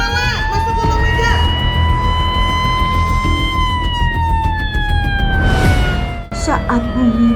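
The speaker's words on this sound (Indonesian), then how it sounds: "Saat bumi mulai berguncang, sirine berbunyi." Earthquake warning siren sounding during a school disaster drill, a loud wailing tone sweeping slowly up and down over crowd murmur and chatter, with a brief dip near the end.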